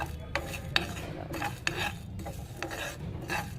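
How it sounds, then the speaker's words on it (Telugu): Chana dal, urad dal and mustard seeds roasting in a pan, with a quiet, steady rasp and repeated soft scraping strokes of a utensil stirring them. "కొంచెం శనగపప్పు, పచ్చెనగపప్పు, మినప్పప్పు, కొంచెం ఆవాలు వేపుకుంటున్నాను."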